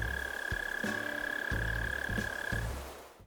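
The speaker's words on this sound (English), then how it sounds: "The only bug leaving in May is the mole cricket, which won't be missed after hearing this for so many months." Mole cricket chirping in Animal Crossing: New Horizons, heard as a low, throaty, pulsing trill repeating in bursts about once a second under a steady high synthetic tone, alone with no talk.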